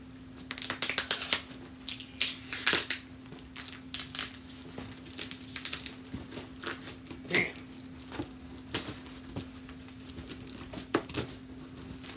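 A Death Stranding collector's edition box for PS4 is opened with close, uneven bursts of cardboard and plastic crinkling, scraping and tearing, broken up by short pauses over a faint steady hum.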